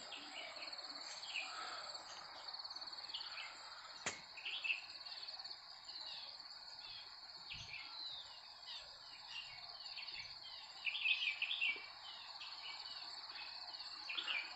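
Insects chirp in a continuous high drone while birds call intermittently near the Thirunelli temple in a Wayanad forest in winter, a calm outdoor ambience without talking.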